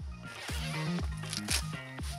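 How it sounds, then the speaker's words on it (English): Both zippers on a dog car seat cover are drawn open, giving a run of rough, rasping zipper strokes, close and fairly quiet, with short pauses between pulls. "simply unzip both zippers and fold the flap down"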